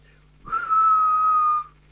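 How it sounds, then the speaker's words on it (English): A single steady whistle is blown into a Midland GB1 PMR446 mobile radio transceiver, one clean sustained tone of about a second, close and clear over near silence. "if I do a whistle"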